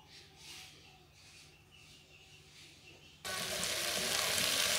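Spices fry in a hot pan for a chalta (elephant apple) pickle: after a few quiet seconds of faint kitchen clatter, a loud, continuous sizzle suddenly erupts and holds to the end.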